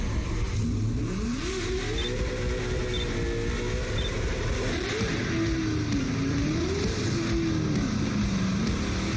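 Car engine revving steadily during a Vaughn Gittin Jr drift run, a loud continuous roar with rising and falling pitch sweeps as the throttle works through the slide, with no talking over it.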